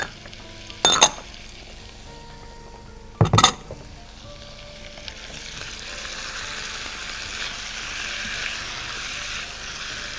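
Sliced garlic goes into a hot pan of cubed liver with a couple of sharp metallic clinks of utensil on pan, then a rising, steady sizzle of frying that carries on close and alone.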